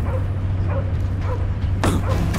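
A dog barks a couple of times over a steady low hum of game ambience during a battle in Marvel's Guardians of the Galaxy, the barks fairly close and brief.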